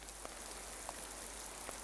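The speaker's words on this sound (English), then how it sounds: "Oh, it's rainy outside." Faint, steady rain outside, a soft hiss with a few light drips, heard from indoors in the video game Raw Danger with no one talking.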